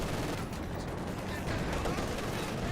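Rapid gunfire from the World War II strategy game Company of Heroes 2 forms a dense, continuous battle clatter of overlapping shots, with faint commentary underneath.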